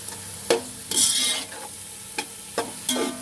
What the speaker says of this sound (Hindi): ये डालेंगे, इसको फ्राई करेंगे, भूनेंगे